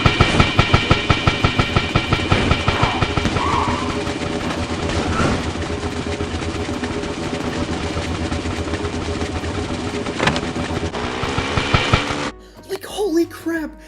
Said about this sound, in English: He used a metal goal to mimic the sound of a train when it does that chugga chugga chugga thing